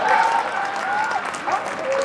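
Audience applause at a Hindi comic poetry recital, a kavi sammelan: a short burst of dense, lively clapping from a crowd, even and sustained throughout without any voices.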